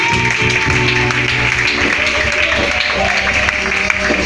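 Church congregation applauding and cheering with joy during a worship service, a steady wash of clapping and crowd noise mixed with music and voices throughout.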